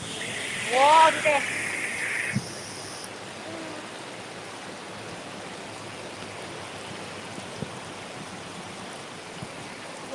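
Floodwater flowing over a road as a car wades through it in Nong Chik, Pattani, Thailand: a steady, broad rushing wash throughout, with a brief tonal sound near the start.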